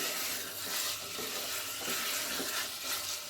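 Chicken being stir-fried in a pan with cumin powder, a steady sizzle and frying hiss with scraping, stirring sounds throughout, close and continuous, no voices.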